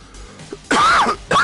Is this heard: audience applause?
no